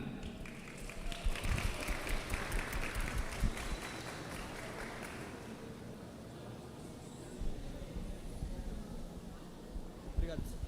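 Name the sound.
audience applause for student presenters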